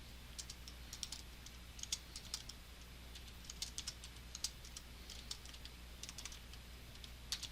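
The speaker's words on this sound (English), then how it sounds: "I'm going to type everything out first." Quiet, close key clicks from a computer keyboard run in an irregular stream of taps over a faint steady hum.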